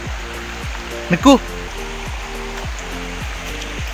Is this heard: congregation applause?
no